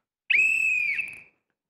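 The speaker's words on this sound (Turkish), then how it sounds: "Onur Mert'in hakemliği bitmiştir." A referee's whistle gives a single loud, sustained blast of about one second, clear and close, then cuts off into silence.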